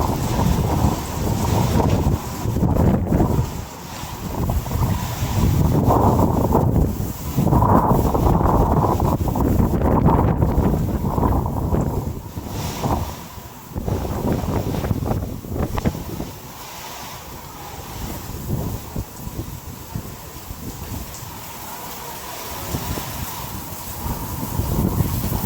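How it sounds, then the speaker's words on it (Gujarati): Strong gusting wind during the first monsoon rain in Gundala roars close against the microphone in heavy, surging buffets that ease slightly toward the end, with no one speaking. "હા જો પવન એવું ચાલુ થઈ ગયો"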